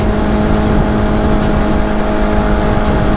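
A loud, steady engine drone with road and wind noise fills the whole stretch, like riding on a motorcycle at speed.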